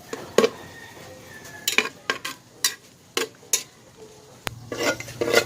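Pork fat rendering in a pan for Ilocano sinanglaw in a backyard cooking setup, with faint sizzling under a series of sharp metal utensil scrapes and clanks against the pan, no talking.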